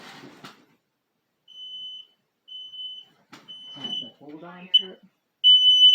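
A smoke detector gives several short, high electronic beeps in a spaced series, the final one longer and louder, while people talk briefly in between.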